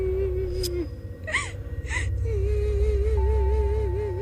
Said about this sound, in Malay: Mirul tiba-tiba terdengar bunyi tangisan sayup je.